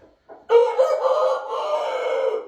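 A 4.5-kilogram fighting rooster crows once, loud and close, a long strained call held for about two seconds after a short clucking start.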